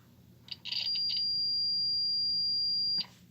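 A multimeter in continuity mode, testing a dryer thermal fuse, sounds a single steady high-pitched beep lasting about two and a half seconds after some brief clicks of the probes, close and clear with no talking.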